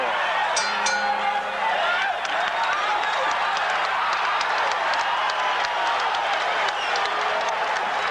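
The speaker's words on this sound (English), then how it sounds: "the crowd here loves to see it anytime Ali does anything that's in any way exciting" Arena crowd at Caesar's Palace in Las Vegas cheering and clapping at a Muhammad Ali versus Larry Holmes heavyweight boxing match, a dense continuous roar of applause with scattered sharp claps and shouts throughout.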